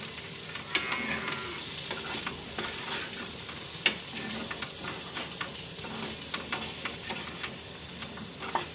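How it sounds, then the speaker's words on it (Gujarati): Jeera potatoes with coriander are stirred in a frying pan, giving a continuous soft sizzle broken by repeated light clicks and scrapes of a spoon against the pan. No one talks. "હવે આ બધું મિક્સ કરી લેવું"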